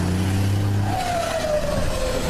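Unmuffled truck engine with no exhaust revving hard, a deep loud roar that drops away as a high turbo whistle rises and slowly slides downward, close and alone.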